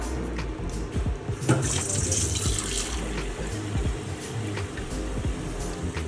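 Water splashes and runs continuously into a cooking pan over frying masala, a steady gushing wash with faint clinks underneath.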